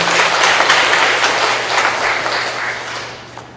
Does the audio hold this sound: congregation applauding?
yes